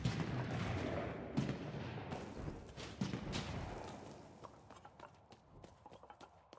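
Gunfire in a video game: a rapid scatter of sharp, distant-sounding shots across a noisy, busy mix, thinning into sparser isolated pops toward the end.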